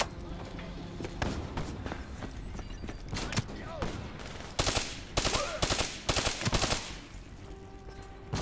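Rapid bursts of automatic gunfire in Call of Duty: Black Ops 3 gameplay, repeated short volleys growing louder after four seconds, with someone talking in between and under the shots.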